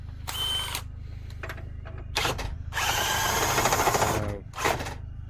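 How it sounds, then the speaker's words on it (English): A brand new power drill runs in several short bursts and one longer sustained whine while working on a Renault 5, with brief pauses between the runs; nobody speaks over it. "This is a brand new drill."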